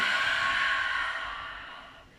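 A long, slow exhale during a yoga breathing exercise, a soft airy breath close to the microphone that gradually fades over about two seconds.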